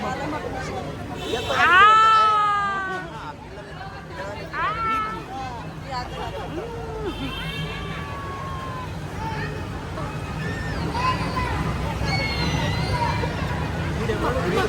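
A ram bleats several times, loud and close, with wavering calls spaced a few seconds apart, over a background of people talking and a crowd murmur.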